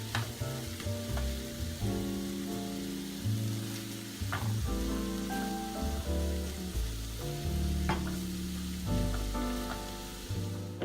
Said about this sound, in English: so we have everything sizzling.